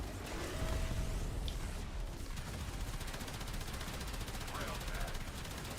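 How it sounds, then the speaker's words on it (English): Railjack torpedoes fire in the Warframe space game as a dense, rapid volley of blasts and mechanical clatter, loud and sustained, with a rattling burst pattern carrying to the end. "Fire torpedoes now!"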